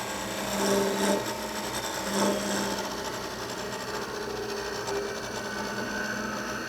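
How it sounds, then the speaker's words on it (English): A parting tool cuts into spinning wood on a lathe while turning a tulip, making a continuous scraping, rasping hiss with a couple of slightly louder swells early on and no talking. "Now I'll use a parting tool at the base, and I'll part down to a diameter about 5/8 of an inch."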